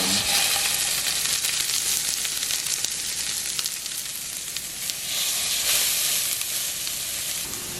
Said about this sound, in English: While these burgers are cooking up